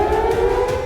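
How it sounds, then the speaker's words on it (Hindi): Air raid sirens sound across Jerusalem after explosions, a steady sustained wail held at an even loud level without pause and without voices. "धमाके के बाद यरूशलेम में भी सायरन बजते सुनाई दिए।"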